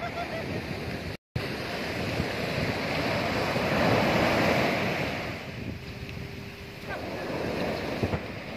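Ocean surf washing onto a beach at Singkawang, a steady broadband roar of breaking waves mixed with wind buffeting the microphone, continuous and fairly loud with a brief dropout near the start.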